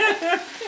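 Pointed cabbage and minced meat fry in a pan for gözleme, giving a brief, loud, close sizzle with some stirring noise.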